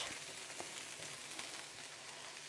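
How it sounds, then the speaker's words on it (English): Wilting slaw sizzling steadily in a hot pan while being stirred, a dense close hiss of frying with faint crackles and soft scraping throughout, no one talking. "So keep stirring it around."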